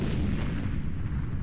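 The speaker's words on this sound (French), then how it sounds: "Un bruit sourd résonne à l'extérieur. Une explosion, puis une autre." A deep, muffled explosion rumbles outside in a wartime audio drama, a dull, sustained boom that rolls on alone without any voices.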